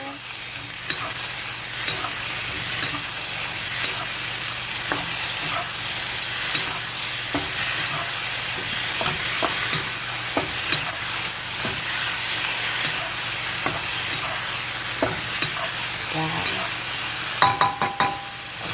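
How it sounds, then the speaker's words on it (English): Eggplant stir fry with basil and oyster sauce sizzling in a pan, a steady frying hiss with repeated spatula scrapes and stirs, ending in a few louder clatters against the pan. "And give it a quick stir."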